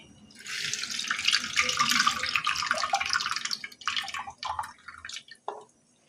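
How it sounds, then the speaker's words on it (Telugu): Tamarind water poured into a spiced fish fry mixture with curry leaves and ginger-garlic paste, a steady close splashing pour for several seconds that breaks into a few shorter trickles and drips near the end, with no talking. "దీంట్లో చింతపండు పులుసు పోసుకోవాలి"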